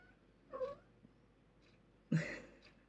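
A cat gives two faint, short meows about a second and a half apart, the second a little louder, in an otherwise quiet room.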